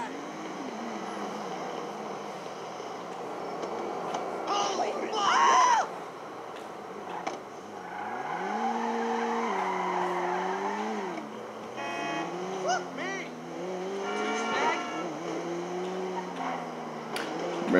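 A car drives in GTA 5 Online, its engine rising and falling as it accelerates and shifts at moderate volume, with someone talking over parts of it.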